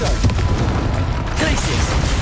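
A Confringo explosive spell from Hogwarts Legacy goes off as a loud dense blast, its rumbling roar filling the whole moment with constant noise and a spoken voice underneath.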